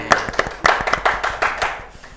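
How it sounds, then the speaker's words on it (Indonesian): A few people clap in a podcast studio in a short burst of uneven, close claps that taper off. "tepuk tangan dulu dong buat Mel"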